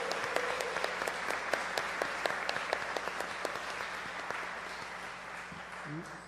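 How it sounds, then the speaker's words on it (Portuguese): An audience at a university radio station's launch event gives a steady round of applause, moderate and even throughout, with a faint voice underneath. "Uma salva de palmas para ele"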